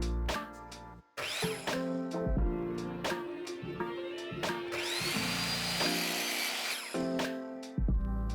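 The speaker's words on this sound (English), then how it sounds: "I need to trim down the spindle so that they're all the same height." A power tool trims wooden spindles down to an equal height for a DIY build, with several short bursts of whining cutting and one long sustained run near the middle, close and fairly loud, with brief pauses between passes.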